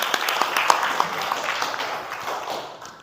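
Scattered clapping from a small group of students in a classroom, brief and fairly light, fading out after a couple of seconds amid a noisy room.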